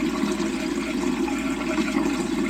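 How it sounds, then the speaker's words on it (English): A freshly rebuilt toilet flushes, a steady rushing swirl of water draining and refilling the bowl, close and continuous. "We'll flush it a couple times to get the rest of this debris out of the water here."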